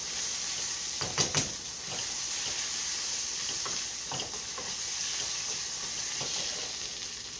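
Copycat hot dog onion sauce stirred in a hot pan, an even hissing sizzle throughout with a few clustered scraping strokes early on and occasional lighter stirs, no speech.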